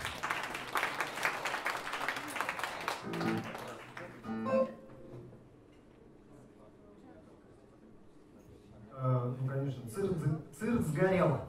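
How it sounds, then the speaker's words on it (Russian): A concert audience applauds in dense clapping that dies away after a few seconds, followed by a quiet stretch and then a voice speaking. "Давайте похлопаем."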